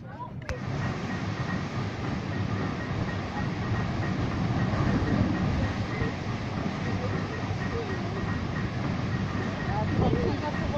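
A roller coaster train from UNTAMED at Walibi Holland runs along its track, a steady rumbling roar with rattling that holds loud and even throughout.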